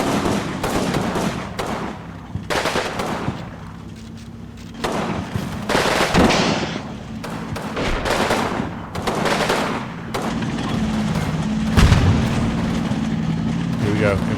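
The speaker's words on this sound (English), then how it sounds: "everybody else on the frontal assault is putting rounds into the town" Gunfire from a frontal assault on a town in Combat Mission Fortress Italy: continuous machine-gun bursts and overlapping rifle shots, loud and dense throughout, with occasional heavier blasts.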